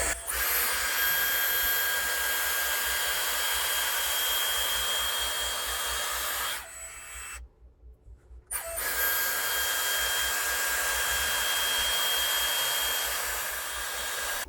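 A hair styler blows steadily at high power in boost mode, cutting out briefly to near silence midway before resuming its constant rushing whir.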